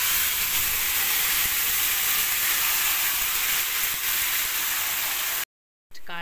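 Raw chicken meat hits hot oil with bay leaf in a pan for a beetroot chicken curry, setting off a loud, steady, close sizzle that hisses unbroken for over five seconds before cutting out abruptly.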